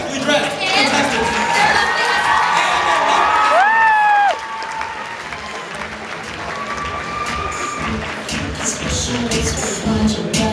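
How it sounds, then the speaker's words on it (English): Loud audience applause with cheering and whoops for eleven smartly dressed contestants at a university Mr. Uni pageant, dense and sustained throughout, easing slightly partway, with voices calling out over the clapping. "Let's give a big round of applause to all 11 of our impeccably dressed contestants."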